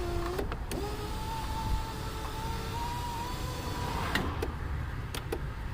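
An electric rear window motor on a 2003 Cadillac DHS with a 4.6l engine, fitted with a new motor and regulator, whines steadily for several seconds, close and fairly loud, with clicks as it starts and stops.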